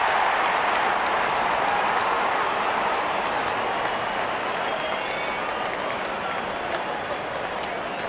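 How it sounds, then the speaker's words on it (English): Crowd cheering in a cricket video game as the opening batsmen walk out for an India versus Bangladesh match, a continuous broad roar of applause from a large stadium crowd lasting throughout. "Out come the openers, cheered by a good crowd in."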